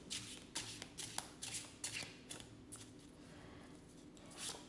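A deck of playing cards is shuffled up close in quick, uneven bursts of crisp riffling and flicking, repeated several times with short pauses and no speech.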